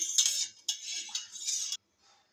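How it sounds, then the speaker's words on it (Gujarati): A metal spoon clinks and scrapes against a vessel while turmeric and salt are stirred into water, in quick bursts of rattling separated by short pauses, close and fairly loud, then falling quiet. "હવે આને સરખું આપણે મિક્સ કરી લઈશું"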